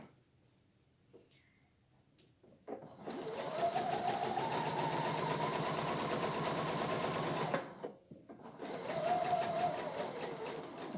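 A home sewing machine stitches fabric in two runs, a steady close mechanical whir lasting several seconds, a short pause, then it starts again, with quiet handling sounds before the first run.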